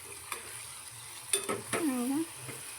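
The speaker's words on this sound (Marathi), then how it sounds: "हे परतून घ्यायचं आहे एक दोन ते तीन मिनटं तर हे बघा छान तेल सुटूपर्यंत आपण हे भाजून घेतलेलं आहे" Soya biryani masala sautéing in hot oil until the oil separates, with a steady close sizzle broken by a few scraping stirs of a spoon against the pan.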